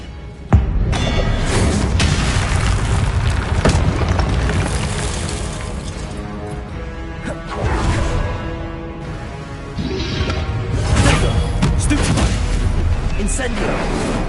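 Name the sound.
Confringo spell explosion, video game Hogwarts Legacy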